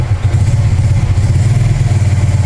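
Idling Suzuki Smash 115 motorcycle engine with a new pulley, a steady low chugging putter running close and loud for the whole stretch, with no voices over it.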